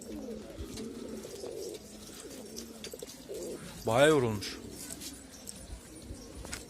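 Pigeons give a clear, loud cooing call in the middle of the stretch, close to the microphone. Someone speaks before and after it in a quiet indoor room.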